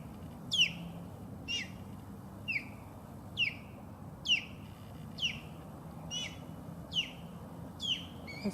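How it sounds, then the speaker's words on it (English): An osprey gives a series of loud, sharp descending whistled calls, about nine evenly spaced bursts over a steady low background hum, outdoors in Florida. "This is really loud sound of the osprey."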